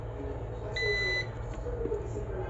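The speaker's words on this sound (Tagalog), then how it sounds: "Yun, nagbabuzzer siya." A multimeter on continuity mode gives a short high-pitched electronic buzz about half a second long, heard once amid background hum during the repair of an electric kettle.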